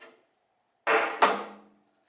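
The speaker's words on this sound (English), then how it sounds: "you want something solid so all your force of hammering goes into the hub here" Two solid hammer blows ring out on a truck wheel hub during a brake rotor job on a 1998 GMC K3500 dually, each a sharp, loud metallic strike with a short decaying ring, spaced about a third of a second apart.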